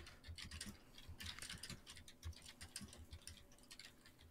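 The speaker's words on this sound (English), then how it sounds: "I apologize if you can hear my typing." Quiet, rapid clicking of keys on a computer keyboard, uneven bursts of soft taps close by with no talking.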